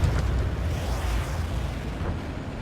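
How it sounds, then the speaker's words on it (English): In the Ace Combat 7 jet combat game, a missile launch and explosion come through as a dense, rumbling low roar, loud and sustained for a few seconds, fading slightly at the end. "Missile away."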